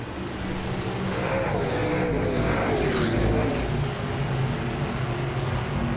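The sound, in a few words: modified race cars racing at Langley Speedway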